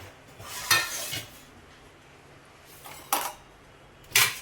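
Plates and kitchen utensils picked up in a home kitchen, with a few scattered clinks and clatters, moderately close, over a quiet background.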